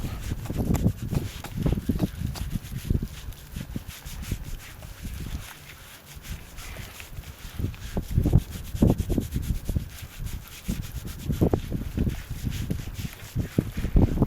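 Scratching and scrubbing at a stain in a horse's coat during a bath, heard as steady, close rubbing and brushing strokes in irregular bursts with a brief lull midway.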